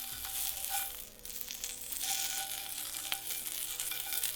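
A5 Japanese Wagyu fat sizzles softly in a hot pan, a faint, steady crackling hiss with occasional small pops.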